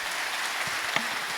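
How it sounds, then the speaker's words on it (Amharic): Audience applause at an Ethiopian business training session, a short, steady wash of many hands clapping at an even level. "አጨብጭቡላችሁ።"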